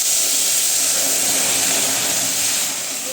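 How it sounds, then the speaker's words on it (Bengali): Mustard seeds and dried red chillies sizzle in hot oil as tempering for sour red lentil dal, a loud, close, continuous hiss that stays steady and eases slightly at the end. "মুসুরির টকের ডালে ফোড়ন দিলাম হচ্ছে সরষে আর শুকনো লঙ্কা"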